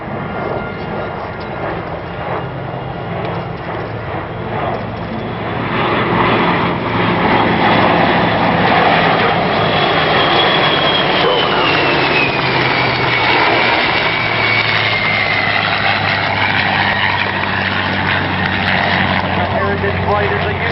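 Air Force Heritage Flight aircraft pass over the 2009 Cleveland National Air Show, the engine roar swelling into a loud, sustained drone with a slowly shifting whine, while a voice narrates over it.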